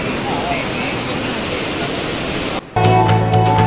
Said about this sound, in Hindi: इधर पानी देखो इधर तेज चल रहा है।